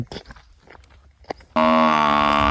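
After a second of scattered rustling and small knocks, a buffalo lets out a loud, sustained moo close by, near a check dam where buffaloes graze, continuing to the end.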